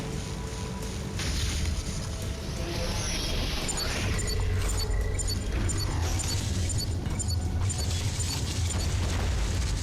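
A power bomb detonating in a Metroid video game, a loud sustained roaring blast with rumble and crackling that fills the whole stretch, no talking over it.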